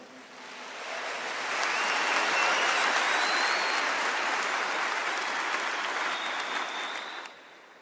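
A church congregation applauds during a sermon, a dense, sustained wave of clapping that swells within a second or two, holds steady for several seconds, then fades out.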